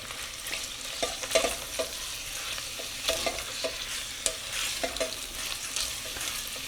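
Ingredients for rice with lentils and sausage being sautéed in a pan over medium heat aboard a boat, with a steady sizzle and repeated spoon scrapes and stirs at an uneven rhythm, close and alone.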